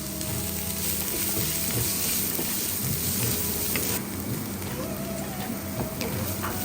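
Finely chopped onions frying with ginger garlic paste for prawn rice, a dense loud continuous sizzle like heavy rain, close and steady with no talk.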